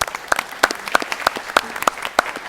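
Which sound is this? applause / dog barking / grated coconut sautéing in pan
applause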